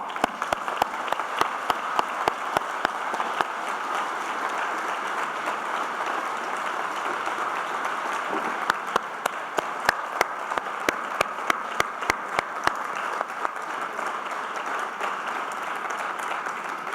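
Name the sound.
applause for the two laureates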